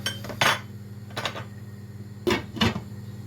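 A cooking pot's lid is set down on top during a butter chicken preparation over medium-high heat, giving a few clanking metallic clinks spread across a couple of seconds against a steady low hum.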